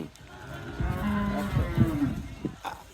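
A cow on a Bengali farm, a young dairy heifer being examined for sale, lets out a couple of close, drawn-out moos over faint rustling and background activity.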